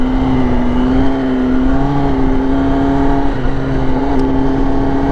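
A 2022 Kawasaki ZX10R motorcycle held at full throttle in second gear, its engine a loud, steady, close drone that climbs slightly in pitch throughout with no talk over it.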